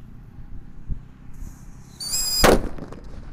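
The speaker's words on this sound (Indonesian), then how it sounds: "Lanjut di sini ada mercon Happy Power 3. Ini suaranya lebih kenceng guys." A Happy Power 3 firecracker, a loud mercon, is lit: a fizzing, whistling fuse rises, then a single sharp, close bang, with faint background noise before it.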